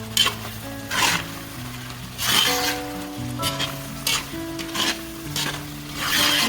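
Spice powders are stirred into chicken karahi frying in a kadhai, with repeated metal spoon scrapes in bursts over a continuous sizzle and faint ringing tones between strokes.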